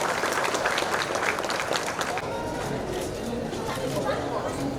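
Crowd applause at a primary school building inauguration ceremony in Kandal province, Cambodia: steady clapping from many people, mixed with murmured chatter throughout.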